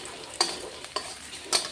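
Onions frying in a pan are stirred for a Bengali mustard fish curry, giving a steady faint sizzle with three clear scraping strokes of the spoon, roughly evenly spaced.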